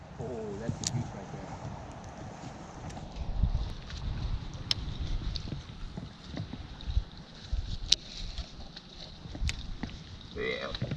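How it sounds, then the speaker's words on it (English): Wind gusting across a jon boat out bass fishing on open water, a low rumbling buffet against the microphone with occasional knocks and water slaps, under intermittent speech. "This wind is not cooperating."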